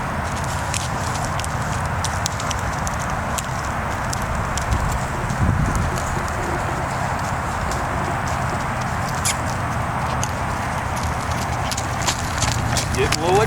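BLM mustang mare cantering under first saddle, her hooves drumming in a dense, steady patter beneath broadband noise across the whole stretch.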